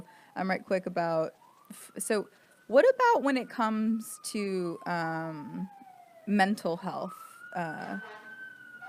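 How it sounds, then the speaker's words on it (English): Emergency vehicle sirens wail outside, a long gliding tone sweeping down and back up under a continuous indoor conversation between two people. "Excuse the sirens."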